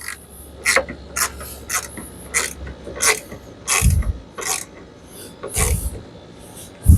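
Headlamp bolts on a 2016 Dodge Journey are tightened with a ratchet, a close series of sharp clicking bursts in an uneven rhythm with a few heavier knocks, no talking.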